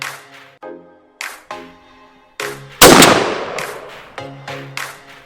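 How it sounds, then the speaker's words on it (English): A Benelli Super Black Eagle shotgun loaded with 3-inch Winchester Longbeard No. 6 shells and fitted with a Primos Jellyhead choke fires outdoors. Several sharp reports echo away, with one especially loud, close blast standing out near the middle. "I'm going to be shooting a Benelli Super Black Eagle"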